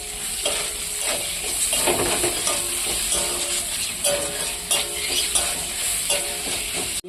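Chopped onion frying in hot oil over fried potatoes, a steady bright sizzle with scraping stirs and light clinks of a spatula against the pan, close and continuous with no talk.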